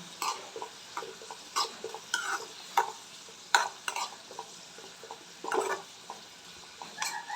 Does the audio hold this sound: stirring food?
yes